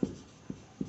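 Chalk or marker on a board during a maths lesson, three short taps of writing strokes spaced evenly within a second, close and clear, with no talk.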